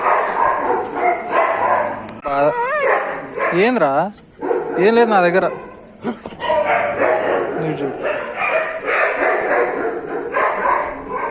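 Several dogs on a farm, one of them a police dog, bark and yip repeatedly close by, with some whimpering. Someone talks over and between the barks.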